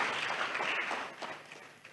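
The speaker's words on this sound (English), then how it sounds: "Another round of applause for them" Applause from a public forum audience for two speakers, a soft, fairly distant patter of clapping that thins and fades toward the end.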